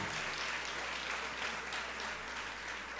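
A church congregation applauds steadily and faintly throughout, a dense even patter of many hands with no clear breaks and no voice above it.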